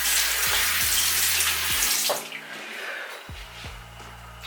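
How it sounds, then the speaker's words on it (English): A tap runs while a face is rinsed off at a sink, a close steady rush of water that goes quieter partway through as the splashing eases. "Alright, so I'm gonna go ahead and just rinse this off."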